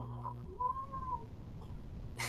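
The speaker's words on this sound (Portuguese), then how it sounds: "Gato não para de chorar." A cat meows indoors, a few faint drawn-out cries with a low steady hum and background noise underneath, ending in a brief burst of noise.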